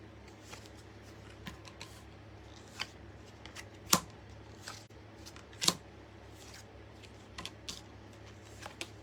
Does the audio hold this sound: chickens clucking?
no